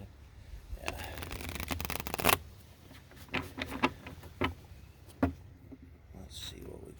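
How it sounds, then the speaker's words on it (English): A tarot card deck being shuffled in a quiet room, with soft riffling bursts and sharp card snaps that come and go in uneven clusters, close and fairly quiet. "Once I shuffle and we start, I like it pulling through the deck"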